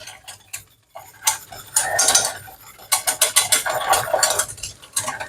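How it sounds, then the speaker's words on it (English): Whisk beating corn flour into cold milk, a steady run of rapid rhythmic scraping clicks against the bowl with short pauses, close and fairly loud with no talk over it. "We're going to whisk that in because the milk's still cold"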